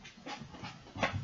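A small, freshly groomed dog pants nearby in quick breathy bursts, several short huffs with a louder one near the end.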